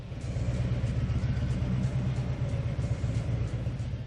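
Harley-Davidson motorcycle engine roaring with a deep, steady, pulsing low rumble, loud and close throughout, no talk over it.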